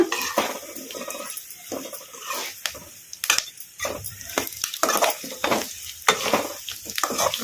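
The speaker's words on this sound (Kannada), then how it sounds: "ಈಗ ಇದಕ್ಕೆ ನಾವು ಕಟ್ ಮಾಡಿ ಇಟ್ಕೊಂಡಿದ್ವಲ್ಲ ನುಗ್ಗೆಕಾಯಿ ಈಗ ಇವನ್ನು ಹಾಕೋಣ ಕಲಸ್ಕೊಂಡ್ಬಿಡೋಣ" Chopped drumsticks are stirred into an onion tempering sizzling in oil, for a drumstick and ridge gourd palya: a loud, close spatula scraping and clattering against the pan in irregular strokes over a continuous frying sizzle, with no voices.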